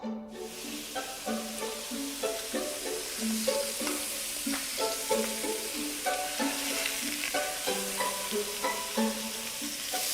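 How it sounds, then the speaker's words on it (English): Hot oil sizzles steadily in a hot pan as pheasant browns, with gentle melodic music playing over the frying throughout. "Expect to sizzle, because I've got this pan hot."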